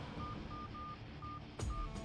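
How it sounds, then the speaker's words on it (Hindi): Telephone keypad tones beep in a quick series of short, evenly pitched presses, faint over low background noise, followed by a soft knock. "विजय को फोन लगा।"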